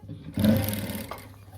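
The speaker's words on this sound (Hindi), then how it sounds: "इसको ऐसे कैसे हम सिलाई मारते हुए ले आएंगे" A sewing machine stitches fabric near the elastic on a garment, its motor humming steadily with a busy mechanical whir that starts abruptly and runs on, loud and close, with no talk over it.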